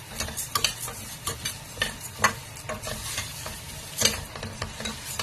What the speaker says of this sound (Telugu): ఇప్పుడు ఈ కందిపప్పునంతా ఇలా లైట్ గా కొంచెం బ్రౌన్ కలర్ వచ్చే వరకు వేపుకోవాలండి